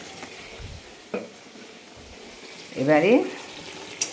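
Mango pickle with vinegar being stirred in a pan, with a few soft scrapes and knocks against a low background, and a brief spoken word near the end.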